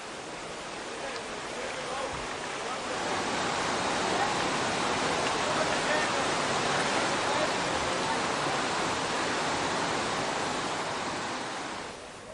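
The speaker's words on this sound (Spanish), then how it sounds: "son ríos caudalosos de aguas claras que se resuelven en rabiones a veces peligrosos" Clear, fast-flowing rapids on the Soča river in Slovenia, a dense, steady rush of water that swells slightly and holds loud and even before tapering off at the end, with no voices.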